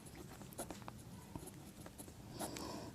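Pen or chalk scratching out a class 10 math equation, a steady soft scraping with small taps over a low room hiss, no voices.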